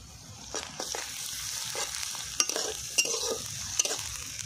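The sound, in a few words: garlic added and sizzling while frying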